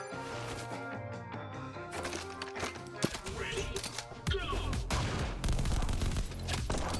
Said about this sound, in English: Fast slide, machine gun.